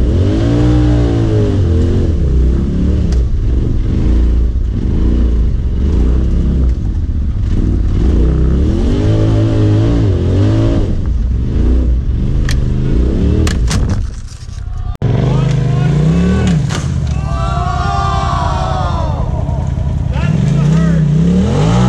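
A Can-Am X3 Turbo side-by-side on an off-road trail, its engine revving loudly and continuously with rising and falling pitch sweeps, a brief dip near the middle, then renewed hard acceleration close by.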